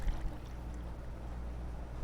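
Melted candle wax poured from a container in a small soap store, a soft continuous liquid trickle over a low steady hum, fairly quiet and close, with no talking.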